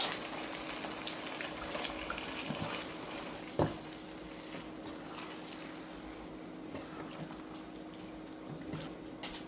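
A pot of water heats on a home stove for egg noodles, giving a steady low simmering hiss with one sharp clunk of cookware partway through and no talking.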